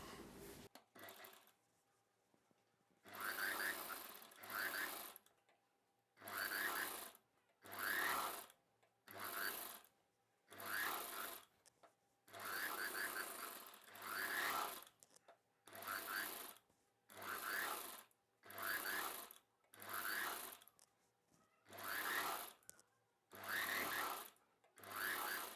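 Electric sewing machine stitching a double-folded cloth cross piece, running in about a dozen short bursts of rapid whirring separated by brief pauses, close and clear with no talk.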